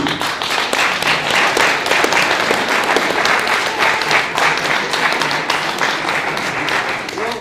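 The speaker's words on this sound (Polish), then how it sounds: "Wielkie brawa dla całej dwudziestki!" An audience claps for a group of twenty European Parliament candidates from Warsaw and Mazowsze at a campaign presentation, steady close applause running throughout the clip.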